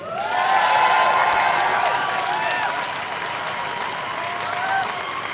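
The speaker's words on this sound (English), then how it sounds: "Please give a massive round of applause to Iona Soper" Large outdoor crowd at a Glasgow independence march and rally breaks into sustained applause with cheers and shouts, loud at first and then tapering slightly while clapping carries on.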